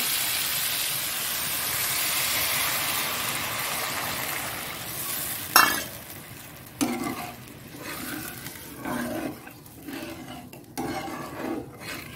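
A spice paste frying in a pan for a Bengali tangra fish curry gives off a steady broad sizzle, then water is poured in and sharp bursts of hissing and stirring clatter follow, close and moderately loud, with no talking.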